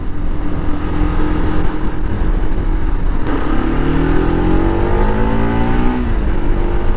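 A Bajaj RS200 BS4 motorcycle engine revs loudly and close, a constant throaty drone with the pitch climbing steadily through one long rev before dropping back. No speech is heard.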